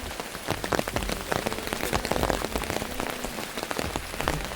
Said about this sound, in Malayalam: കടുത്ത മഴ ഓടിക്കോ.